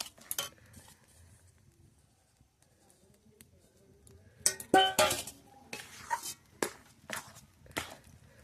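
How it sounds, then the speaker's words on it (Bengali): Rice flour being stirred into water in a wok for puli pitha dough comes through as intermittent scraping and clinking of a utensil against the pan, quiet at first and then in louder close bursts. "এবার চালের গুঁড়িটা অল্প অল্প দিয়ে মেশাবো।"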